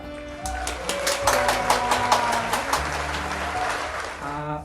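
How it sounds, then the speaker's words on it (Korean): Applause breaks out at a church praise program as a senior elder and his wife are welcomed, quick claps layered over sustained music tones and filling the room for several seconds. "박수로 환영하도록 하겠습니다"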